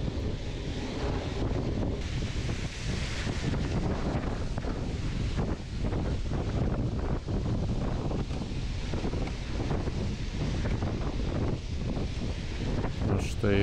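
Strong headwind roars steadily across the microphone of a mountain bike rider on a gravel road during a muddy MTB race in Telšiai, a loud continuous rush of buffeting with occasional bumps.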